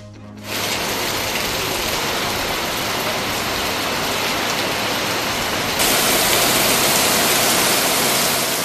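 Heavy monsoon rain pours down on Mumbai streets in a dense, continuous hiss that grows louder partway through, with no voices.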